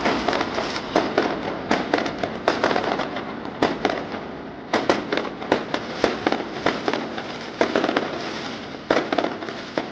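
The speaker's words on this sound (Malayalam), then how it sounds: "പടക്കത്തിന്റെ ശബ്ദവും വർണ്ണക്കാഴ്ചകളും" Diwali firecrackers and fireworks go off across the streets and residential areas of Dubai and Sharjah, a dense run of sharp bangs and crackles with little pause between blasts.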